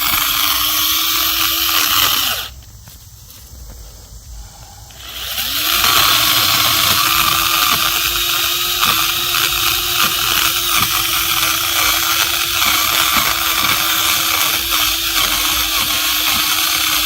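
A chainsaw cutting down saplings in woodland drones loud and close, briefly dropping to a lower idle before roaring back up to a steady high-revving whine.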